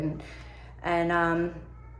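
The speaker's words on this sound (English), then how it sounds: "That's my cat. She makes those noises when she finds a rubber band or something she wants to play" A pet cat lets out one drawn-out, tonal meow in the middle of a quiet stretch, clear and close to the microphone.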